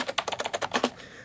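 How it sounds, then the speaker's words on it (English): Rapid burst of about a dozen crisp clicks from a Sega Saturn Netlink keyboard, close and clear, bunched in a quick rhythm before stopping. "It's just a very satisfying click."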